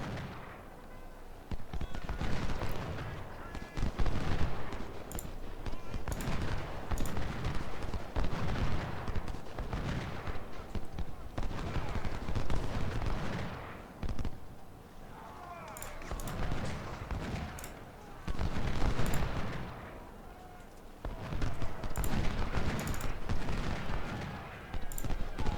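Civil War battle gunfire from the strategy game Ultimate General: Civil War, during a Union fight at Richmond. Dense, continuous rolling volleys of musketry and booming cannon fire swell and dip for the whole stretch, with brief lulls and occasional sharp cracks. Someone talks faintly underneath.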